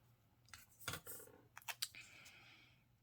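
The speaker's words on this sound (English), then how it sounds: "I'm going to cut the sticker." Scissors cutting a sticker in a paper planner, a few quiet close snips and crisp rustling crunches spread over a few seconds in a hushed room.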